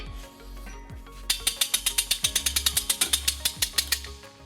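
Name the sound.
hitch jack raising a trailer hitch into place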